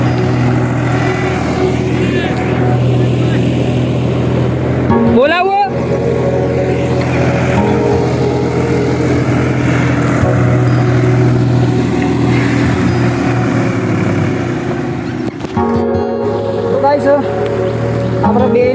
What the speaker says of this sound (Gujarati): રોટરી મારવાનું ચાલુ થઈ ગયું છે આપણું ઘરનું જ છે ટ્રેક્ટર